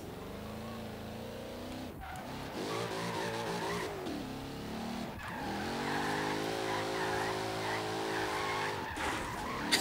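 A sports car in Forza Horizon 3 races flat out over a roundabout, its engine droning steadily with rising revs and tire squeal, loud and continuous with brief dips around gear changes.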